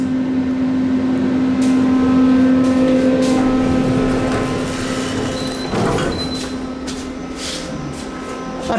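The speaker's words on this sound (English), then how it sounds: "That beeper sounds like the traditional Dovers at the Roosevelt Field. The door sensor beep." A 1986 Otis Series 1 hydraulic elevator in a campus parking garage hums steadily while its door sensor gives a couple of short, high beeps, with the door rumbling as it moves.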